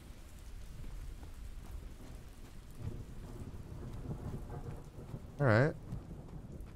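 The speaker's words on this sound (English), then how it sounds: "This rainstorm is making it tough" In the horror game Ritz The Rake, a steady wash of rain pours down with low rumbling thunder beneath it, while a voice briefly speaks near the end.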